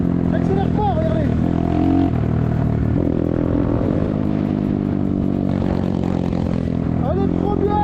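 BTC T18 motorcycle engine idling along while ridden without throttle, a continuous close puttering drone with rattly clatter, someone talking over it throughout.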